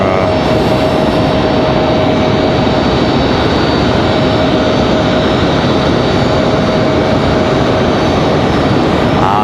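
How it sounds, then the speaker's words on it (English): A FedEx ATR turboprop at Raleigh-Durham airport, its engines droning loudly and constantly with a steady propeller whine, close by and unbroken, with no talking. "Our FedEx ATR going to go to the other side over there."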